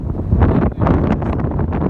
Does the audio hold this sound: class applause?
no